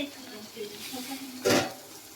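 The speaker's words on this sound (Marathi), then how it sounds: "तेलमध्ये पेस्ट टाकून देऊया" Spice paste dropped into hot oil for tempering gives a sudden loud sizzling burst, with quieter cooking sounds and stirring before it and the hiss easing off afterward.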